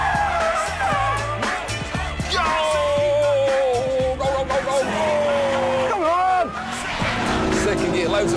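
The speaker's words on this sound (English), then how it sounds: "wheel spin, second gear, can't go flat" Loud engine of a Ford Focus RS or Mitsubishi Evo X revving up and down with tyre squeal and wheel spin in second gear, someone talking excitedly over the roar throughout.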